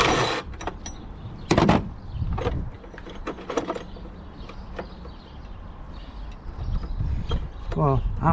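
A driver turns the battery strap bolt on a 2016 Renault Trafic Business van, giving a run of close, sharp mechanical clicks and ratcheting taps with brief pauses between bursts.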